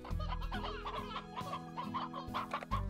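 Repeated short clucks from an old chicken in the video game Slime Rancher, close and fairly loud, over a low droning tone.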